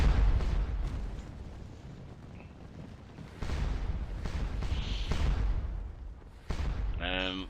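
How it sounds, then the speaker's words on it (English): Cannon artillery in the Napoleonic battle game Scourge of War Waterloo booms in deep, scattered blasts, some distant and some nearer, under someone talking steadily over the battlefield noise. "And like I said, cannon crossfire."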